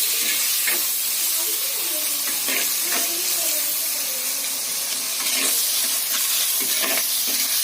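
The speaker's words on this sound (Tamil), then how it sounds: "இந்த தக்காளி வந்து நல்லா தோலெல்லாம் வெளியே வரணும், நல்லா வதங்கணும் தக்காளி" Two medium tomatoes sauté in a pan for white kurma, a loud, steady sizzle and hiss with intermittent stirring scrapes, and a voice murmurs faintly underneath.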